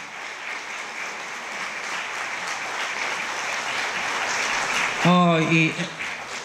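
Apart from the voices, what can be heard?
audience applause at a gala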